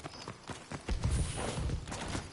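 Hooves clip-clop in a steady walking rhythm from horses in a shotgun video game, fairly close and continuous, with a heavier low thump midway.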